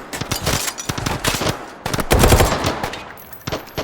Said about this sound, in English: Oh no, did I shoot him?